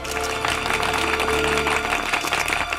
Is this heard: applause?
yes